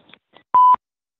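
Two brief touch-tone keypad beeps on a telephone, a short faint tone followed by a longer steady dual-tone press, with no talking over them.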